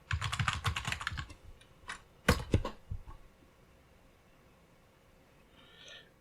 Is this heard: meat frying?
no